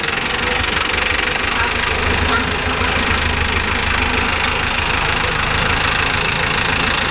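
A Mahindra Arjun Novo 605 S tractor engine running near and loud, a steady rough diesel rumble with a constant knocking vibration throughout.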